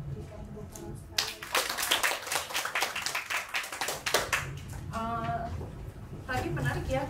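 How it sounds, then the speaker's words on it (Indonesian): A small audience at a writing clinic breaks into a burst of clapping, dense and close, lasting several seconds before thinning out as voices talk over it. "kita berikan tepuk tangan sekali."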